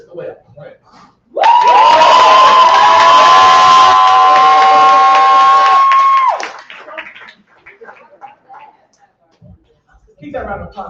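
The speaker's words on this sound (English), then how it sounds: "Keep that round of applause going for Betty Yeti." At a poetry slam, a crowd breaks into loud applause, cheering and whoops that hold for about five seconds. Scattered shouts and voices follow as it dies down.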